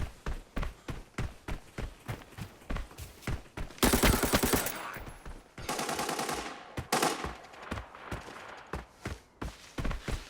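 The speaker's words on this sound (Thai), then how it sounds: "ยิงไปก่อนแล้วกันนะครับ" A machine gun fires in the video game Arena Breakout, with rapid single shots and then a loud sustained burst of gunfire, followed by more scattered shots and footstep-like taps.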